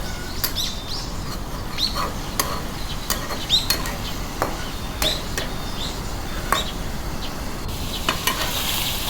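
Meat bhaji being stirred in a pan as it fries, with steady soft sizzling under repeated scraping strokes of a spoon and faint bird chirps in the background.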